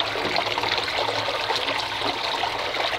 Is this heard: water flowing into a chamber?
yes